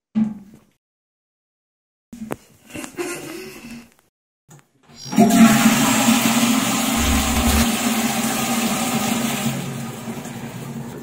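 A toilet flushes with a sudden loud rush of water after a few quiet seconds and some small handling noises, then keeps gushing steadily for several seconds.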